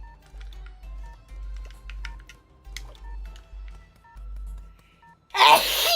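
A single sharp sneeze bursts out near the end, loud and close, after a stretch of quiet clicking and a low hum.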